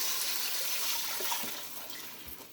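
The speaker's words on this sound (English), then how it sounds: "we're going to add in our water," Water pours into a soup pot of frying garlic and chili paste, a continuous gushing splash that gradually softens toward the end.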